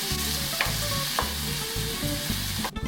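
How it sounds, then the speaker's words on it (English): Tomatoes for shakshuka simmer and sizzle in a pan over medium heat, a steady loud crackling hiss broken by a few soft stirring scrapes and a brief clatter near the end. "So you want to simmer these tomatoes for about 5 minutes at a medium heat."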